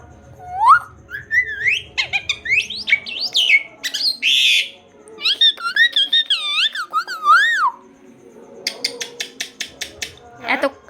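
A myna bird whistles and squawks in a series of rising, looping calls imitating a koel, close and clear, with short pauses between bursts.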